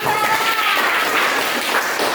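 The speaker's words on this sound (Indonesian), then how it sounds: "Baik, kita kasih tepuk tangan." Students in a classroom break into applause during a lesson, loud, close, scattered clapping from a small group that carries evenly to the end.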